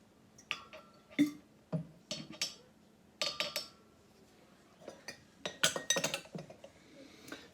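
Glassware clinks and knocks as a glass is fetched and handled while making honey mead, a series of sharp, close taps and chimes in irregular clusters with quiet gaps between.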